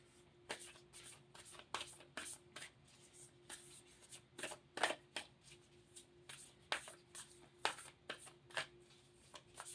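Starseed Oracle deck cards being shuffled by hand, a run of quick riffling bursts repeating irregularly throughout, close and fairly quiet, with no talking.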